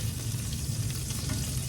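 Pork sizzles and fries in a pan with a steady, close crackling hiss, unbroken for a short moment, with no talking.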